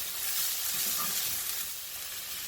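Bean sprouts sizzle steadily in a hot stir-fry pan with beef and rice noodles, a close, even, crackling hiss that softens slightly toward the end, no voices.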